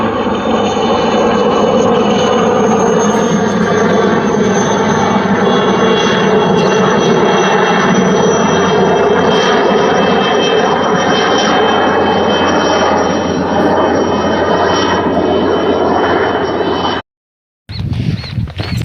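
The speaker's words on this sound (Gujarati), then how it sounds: "હેલિકોપ્ટર આવે મિત્રો હેલિકોપ્ટર" A helicopter roars loudly overhead, a constant heavy engine and rotor drone that cuts out briefly near the end before resuming.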